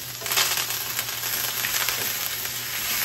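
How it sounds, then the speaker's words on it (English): Butter, garlic cloves and thyme fry in a pan over low heat, a loud, steady, close sizzle and crackle that stays even throughout with no talking. "let that fry that thyme."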